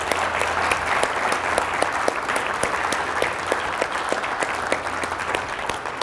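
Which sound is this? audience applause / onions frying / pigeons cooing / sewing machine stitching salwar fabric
audience applause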